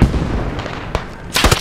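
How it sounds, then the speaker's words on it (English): Sharp gunshot cracks in the military shooter game Squad, one isolated report near the middle and a louder cluster of shots toward the end, set against dull background rumble with no talk. "Oh shit, I got sniped."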